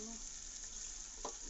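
Meat and lentils frying in a pan with a splash of water, stirred as they cook, giving a short, faint but steady sizzling hiss with a soft scrape of stirring near the end.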